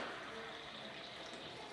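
Tap water runs steadily into a container for limeade, a faint, continuous hissing pour with no pauses and no voices.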